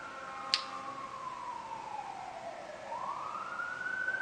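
A siren sounds in downtown Los Angeles, likely from a police car or other emergency vehicle: a single wailing tone that sweeps slowly down and then rises again, moderately loud and somewhat distant, heard over steady city background noise.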